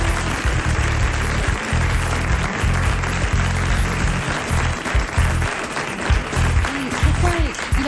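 Studio audience applauding on a 1990 French television talk show, a steady dense clapping wash with a low hum and voices underneath, continuing throughout.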